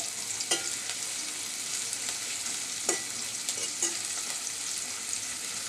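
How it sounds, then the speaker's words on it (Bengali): Onions soften in a frying pan for a fish curry, with a steady close sizzle broken by a few sharp stirring clacks of a spoon against the pan. No one speaks. "পেঁয়াজটা একটু নরম ভাজা করে নিব"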